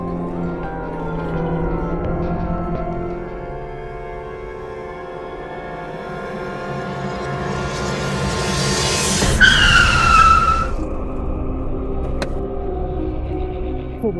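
A car skids hard to a stop in a drama scene, with a sustained rumbling engine and a sharp tire squeal peaking near the end, loud and close with no talking.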